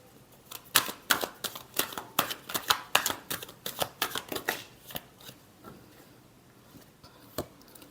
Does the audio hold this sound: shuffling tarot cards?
yes